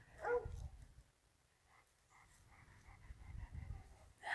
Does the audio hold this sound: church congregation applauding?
no